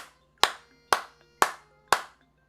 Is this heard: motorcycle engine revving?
no